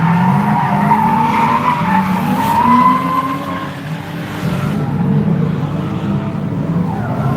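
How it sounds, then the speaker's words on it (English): A V8-powered Nissan S13 drift car slides around a new drifting track in New South Wales, its tires skidding and squealing under a revving engine, loud and continuous with the pitch wavering as it passes. "Aaron in front in the V8 S13."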